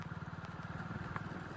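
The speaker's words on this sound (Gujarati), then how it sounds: "આપણે હરવે કરીને બાઈક ચલાવીને જઈ રહ્યા છીએ બારે ફરવા જવા માટે" A motorcycle rides slowly along a damaged, potholed asphalt road, its engine thumping in a steady, rapid low pulse close by, with a brief rattle partway through.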